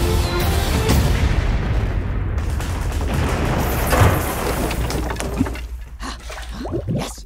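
Cannon fire in a movie trailer, a heavy booming explosion with a rumbling, roaring wash of debris and water-like noise that swells around the middle and then fades into scattered crackles.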